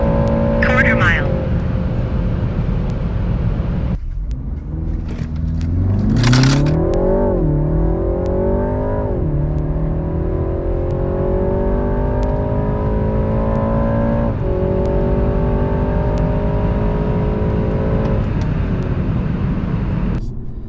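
A BMW G20 with a JB4 tune accelerates hard on a quarter-mile run. The engine climbs in pitch and drops briefly at each gear change, staying loud and close throughout.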